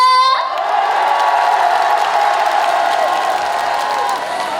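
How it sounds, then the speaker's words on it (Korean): Crowd at the Namhae garlic and Korean beef festival clapping and cheering outdoors, a broad steady roar of claps and shouts that follows a short musical tone at the start. "재밌게 즐기시고 계셨다 하시는 분들 다 같이 박수와 함성!"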